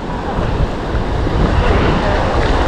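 Surf breaks beyond a sandbar at Galveston beach, a steady close roar of churning water with heavy wind buffeting the microphone throughout.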